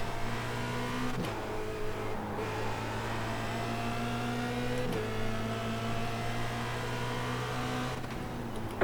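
Formula Renault 2.0 open-wheel race cars at Spa in the iRacing sim, with a steady engine drone holding a sustained tone, plus a few brief sharp gear-shift transients, loud and continuous without talk.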